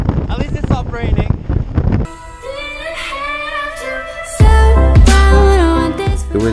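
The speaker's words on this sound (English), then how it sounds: "It's really windy out here." Strong wind buffets the microphone outdoors on a rainy road trip, rumbling in loud low gusts that swell and roar, with voices talking early on.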